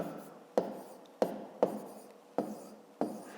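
Pen strokes on paper while numbers are written out for a maths exercise: five or six sharp taps, each trailing into a short scratch, evenly spaced and close.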